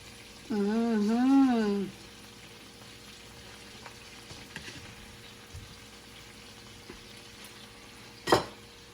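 Onions frying in a pan give a faint, steady sizzle, with a brief tonal whine near the start and a sharp clack near the end.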